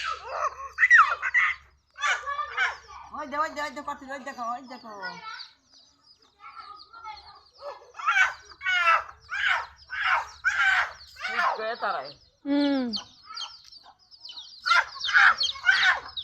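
Backyard chickens cluck and squawk in scattered bursts near the microphone, broken by pauses, while a child and an adult talk over them.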